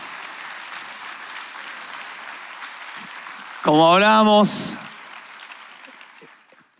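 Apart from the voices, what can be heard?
congregation applause in church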